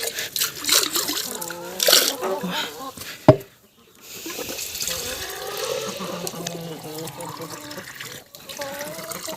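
Water trickles and splashes as it is poured into a ducklings' drinker, a soft, close fill sound running under steady talking.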